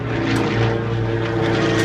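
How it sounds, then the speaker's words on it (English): Loud, sustained propeller drone from an aerobatic airplane rolling over the top of a half Cuban 8 maneuver. The engine holds a steady, close roar throughout. "as he comes up over the top, rolls the airplane around"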